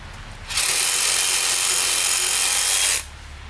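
A DeWalt one-handed saw cuts through a branch still attached to a tree. A loud, steady motorized buzz starts abruptly and runs for about two and a half seconds before stopping sharply, close up with no talking.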